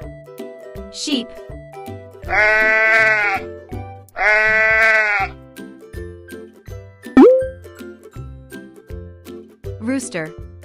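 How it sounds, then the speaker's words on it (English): Two long, wavering sheep bleats sound close and loud in succession over a plinking rhythmic beat, with short spoken words before and after. "Sheep."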